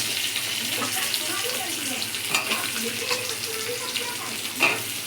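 Cumin seeds sizzle steadily in hot oil for tempering at the start of a crab curry, a close, continuous frying hiss with small pops.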